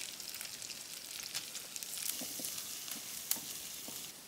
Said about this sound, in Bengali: তেল আর পেঁয়াজ কুচি দিয়া মাছগুলা ভাইজে নেব